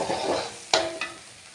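Vegetables frying in a pan while being stirred, with a soft sizzle and two sharp scraping strokes of the spoon partway through, fading afterward.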